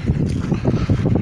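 Low, rumbling warm wind at Hel, Poland, gusting against the microphone, steady and close, with no voices.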